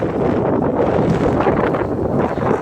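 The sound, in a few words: strong wind blowing on a mountaintop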